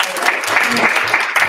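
A brief burst of audience applause at a Cannadelic Miami cannabis event, dense clapping heard close and fairly loud for a second and a half.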